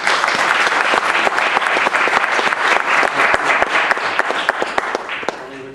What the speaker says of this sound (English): Please help me welcome them with a round of applause.